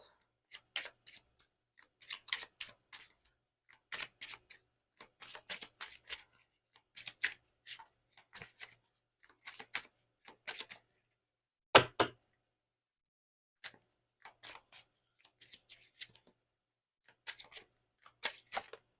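Oracle cards being shuffled by hand, a spirit animal deck, in a long run of quick papery riffles and bursts broken by short pauses, close and clear with no talking.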